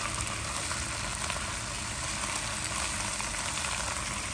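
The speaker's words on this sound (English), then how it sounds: "You want to mix your vegetables around so that you touch" Baby bok choy stir-frying with oil and garlic in a hot pan, a steady broadband sizzle that stays loud and even throughout, with no talking.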